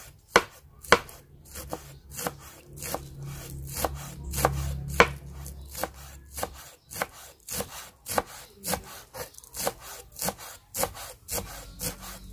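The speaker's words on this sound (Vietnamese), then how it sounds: "Cái phần lá hành này thì mình sẽ sắc nhuyễn nó ra luôn ha." A knife finely chopping green onion leaves on a cutting board for a spicy enoki mushroom dish, with crisp rapid taps in an uneven rhythm, close up and alone.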